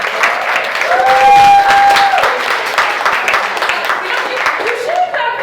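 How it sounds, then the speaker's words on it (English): Applause from a live audience at a writers' sharing event, a steady wash of clapping with crowd voices and cheering mixed in, slightly fading toward the end. "Let's give it up for her one more time"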